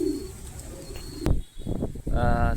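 Pigeons coo in a loft in Kamalapur, Dharwad, soft repeated low cooing with some wing and movement noise, close by, with a voice briefly heard.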